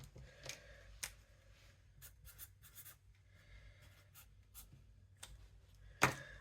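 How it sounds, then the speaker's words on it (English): Quiet pen-on-paper scratching as an IOU note is handwritten, short strokes coming in irregular bursts with pauses between, close and soft over a faint low room hum. "I'm going to write myself an IOU."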